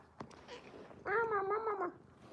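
A domestic cat lets out a single drawn-out meow, clear and fairly near in a quiet room, after a few soft indistinct sounds.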